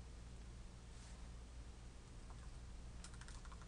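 Computer keyboard typing while a name is entered to add someone to a Facebook group: a quick burst of soft key clicks near the end, faint over a steady background hiss.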